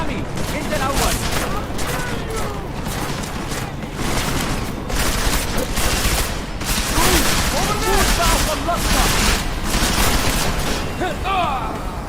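Sustained gunfire in Deus Ex, a relentless, loud stream of rapid shots and booms filling twelve seconds of close combat, with voices shouting underneath.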